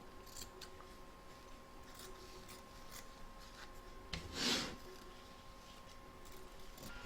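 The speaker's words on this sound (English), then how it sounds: "Trim away your excess batting." Scissors snip away excess quilt batting around an in-the-hoop bells applique, faint quiet cuts and rubbing with one louder, closer snip burst midway, no talking.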